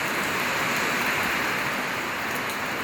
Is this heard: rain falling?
yes